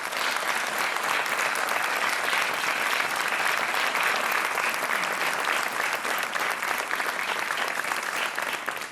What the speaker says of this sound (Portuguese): Um aplauso para o David Claudino.